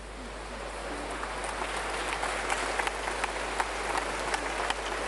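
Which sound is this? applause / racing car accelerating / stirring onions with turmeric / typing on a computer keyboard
applause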